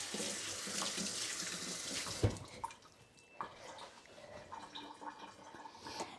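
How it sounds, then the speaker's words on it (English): A kitchen water tap running while hands are rinsed under it, a steady splashing hiss that cuts off abruptly, then scattered drips and faint clatter; quiet and nearby. "I'm going to rinse my hands"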